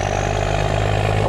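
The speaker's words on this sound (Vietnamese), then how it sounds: "Tiếng đó là tiếng của trục bô á." A loaded barge's Cummins diesel engine, around the N14 size, runs at a steady idle-like drone, loud and close, with a continuous low rumble and no voices over it.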